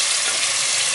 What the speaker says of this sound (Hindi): इसको फ्राई करेंगे अच्छी तरह ऑयल में इन सब चीज़ों के साथ।